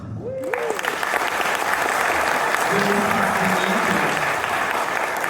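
A concert audience applauds loudly and continuously, dense clapping filling the space, with a voice briefly speaking over it near the start and middle.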